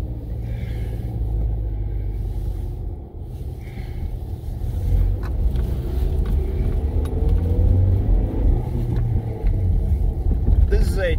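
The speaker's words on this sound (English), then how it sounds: "This is a Toyota Yaris. It is a manual transmission car, standard transmission." Toyota Yaris with a manual transmission running steadily, a continuous low engine rumble with some wind buffeting, loud and close for the whole stretch.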